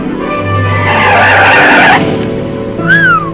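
A car brakes hard and skids to a fast stop, a loud sustained tire squeal lasting about two seconds that cuts off abruptly, followed by a brief whistle-like tone.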